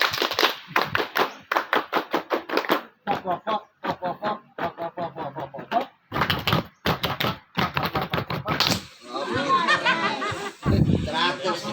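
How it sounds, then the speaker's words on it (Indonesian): A group of scouts at a Lombok jamboree claps out the rhythmic Pramuka pattern: close, sharp bursts of clapping in counted groups with brief pauses between. Voices chant along, and there is some laughter near the end. "Ayo, tepuk pramuka."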